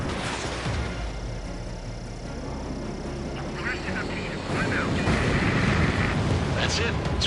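Jet engines roar and an enemy bomber explodes after being shot down in Ace Combat, a dense, loud rumble with sharper bursts, while radio voices talk over it.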